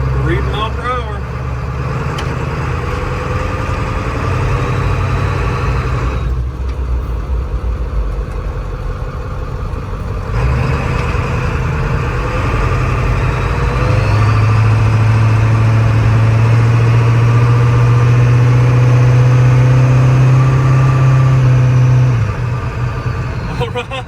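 A 7.3 Powerstroke diesel engine in a Bronco drives along a road, with a loud, steady low rumble that climbs in pitch through the gears while someone talks over it.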